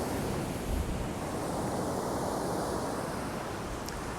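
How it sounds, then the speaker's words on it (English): Steady, broad wash of ocean surf rolling continuously, with a soft low rumble and a hint of wind, no voices. "Transitioning to water waves."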